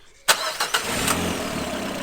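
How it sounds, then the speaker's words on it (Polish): Citroen C5 with over 300,000 km, engine starting after an oil additive is poured in: a sharp cranking burst, a couple of quick catches, then a steady close idle. "i zaraz uruchomimy silnik"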